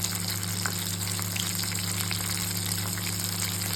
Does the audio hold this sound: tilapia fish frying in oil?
yes